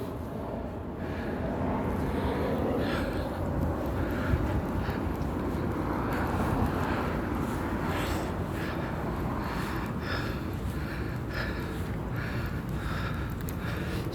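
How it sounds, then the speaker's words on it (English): A Boeing airliner passes overhead as a steady, broad jet roar that holds a constant level throughout, distant and unbroken, with no speech. "You can hear the sounds of Boeing."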